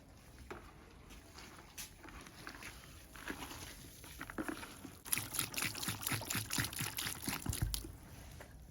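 Water from a jerrycan trickles and splashes into a tela beer mixture, faint at first, then a steadier pour with sloshing and clinks in the second half.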